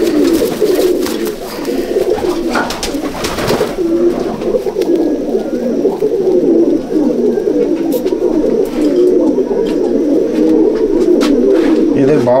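Young first-year patta pigeons in a loft coo loudly and continuously, a dense close-up chorus with scattered sharp clicks and knocks.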